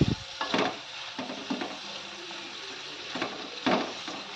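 Onion and tomato fry in oil for palak paneer, a soft sizzle broken by spoon scrapes and taps against the pan at irregular intervals.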